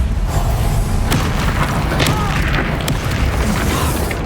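In the Hogwarts Legacy video game, a Bombarda explosion spell goes off amid loud, dense booming and crashing that barely lets up, with sharper impacts breaking through the continuous roar of combat.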